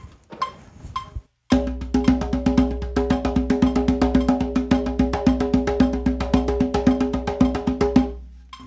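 A tuned hand drum is struck in a fast, even stream of four strokes per metronome beat, ringing close and loud, after a brief faint rattle at the start.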